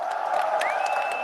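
Live event crowd at The Finals Grand Major esports tournament, a dense steady murmur of cheering with a brief whoop and a rising whistle-like cry, close and loud across the whole moment.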